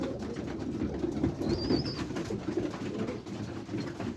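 Pigeons coo in low, soft, overlapping murmurs inside a loft, a continuous near hum of birds with a brief higher chirp partway through and no talking.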